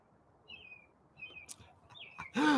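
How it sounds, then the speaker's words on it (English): Birds call outdoors, several thin whistled chirps spread across a few seconds with soft background noise, ending in a louder brief burst. "The birds are really going crazy."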